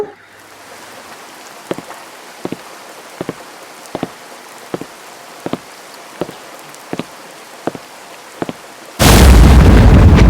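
Cartoon rainstorm: a row of evenly spaced single drops taps out a slow rhythm before a sudden, loud, dense downpour crashes in over the last second, with no voices.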